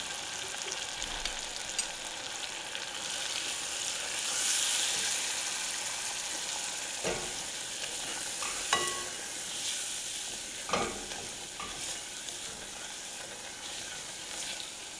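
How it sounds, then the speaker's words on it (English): Flour cooks in a hot pan as the base for a homemade cream of soup, giving a steady soft sizzle with occasional scrapes and stirring clicks, close and fairly quiet, with no talking. "I'm going to also add in some flour. And we're going to cook it till that raw flavor is out."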